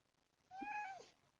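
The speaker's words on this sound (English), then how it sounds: "Oh, Kitty's here. Maybe she'll visit" A cat gives a single short meow, faint and somewhat distant, against a quiet room.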